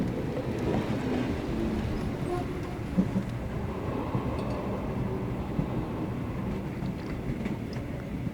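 A night train travels in the video game Sherlock Holmes: The Awakened, bound for Interlaken, Switzerland, giving a steady, loud rumble of rolling carriages that holds evenly throughout with no voices over it.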